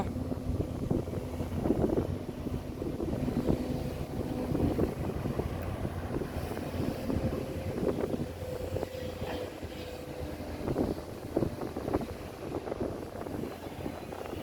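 Wind blows steadily across an excavator dredging site at a large pond being cleared for farm water storage, a continuous rumbling gust noise with faint mechanical undertones and no talking.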